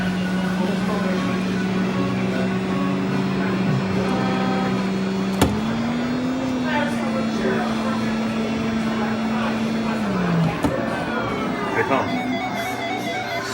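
Arcade racing video game cars at a 1984-themed arcade in Springfield, MO: a steady synthetic engine drone that holds its pitch, lurches into a higher tone and then drops, amid dense electronic arcade noise.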